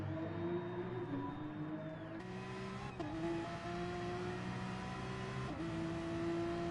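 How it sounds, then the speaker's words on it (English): Gran Turismo-style Gr.3 race car at Spa in a racing video game, its engine held at high revs and bouncing on the rev limiter, a loud steady whine with brief dips at gear shifts, no voices. "let's hear that rev limiter go off."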